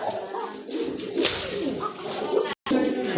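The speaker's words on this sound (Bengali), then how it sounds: "এটা কিন্তু একটা নট কবুতর অলরেডি বুঝে গেছেন এটা কিন্তু খুব ভালো ডাকতেছে" A black and gold pigeon coos close by in soft, throaty bursts, with a short break near the end.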